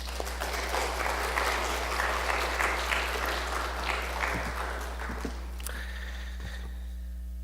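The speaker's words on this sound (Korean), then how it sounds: "여러분 뜨거운 박수로 환영해 주시면 대단히 감사하겠습니다." Church congregation at a Sunday service warmly applauding as the pastor comes forward, dense clapping that thins out after about five seconds, leaving a steady electrical hum and a few scattered sounds.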